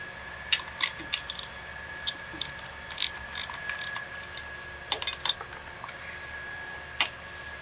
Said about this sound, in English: we're going to take our 15/16 socket and ratchet and wrench, and we're going to loosen the clamp on the mud pipe